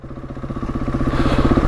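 A Husqvarna 701 Enduro motorcycle in first gear with a 14-tooth front sprocket, its engine close and loud, thumping in a fast, even beat that builds slightly under engine braking off road.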